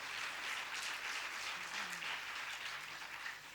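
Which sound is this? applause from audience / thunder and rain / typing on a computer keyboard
applause from audience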